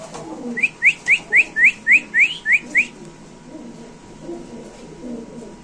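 A female Tiger Beauty pigeon, restless and close to laying eggs, gives a quick run of about nine bright, rising calls in an even rhythm, close and clear, before the sound fades to low background murmur.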